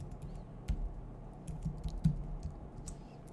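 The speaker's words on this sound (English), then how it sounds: "I'm just going to type in some text" Keys tapped on a computer keyboard in an uneven run of soft clicks with a few sharper strokes, close and fairly quiet against a low room hum, no voices.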